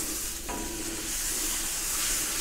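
Butter melts and sizzles on a Pit Boss Ultimate 2 gas griddle at medium-high heat for stingray, a close, steady frying hiss with a brief scrape or stir near the start.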